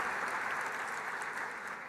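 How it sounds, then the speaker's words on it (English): A large audience at an opening ceremony breaks into a warm round of applause, dense steady clapping that fills the room and fades slightly toward the end. "Let's greet them with a warm round of applause."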